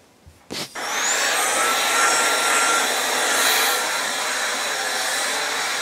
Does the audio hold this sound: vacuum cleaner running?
yes